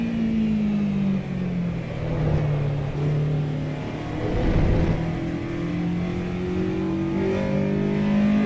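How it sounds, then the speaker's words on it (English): Road car engine revving on a racetrack in the Assetto Corsa Evo racing game during practice, a steady droning whine that dips and climbs again with gear changes, loud and continuous. "This is a road car on a racetrack."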